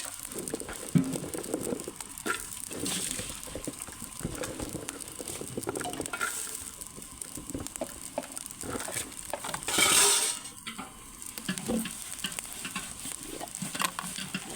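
Washed green chilies drop into a pan of frying fenugreek seeds in a village kitchen, giving a steady close sizzle with stirring scrapes and a brief louder hiss burst partway through.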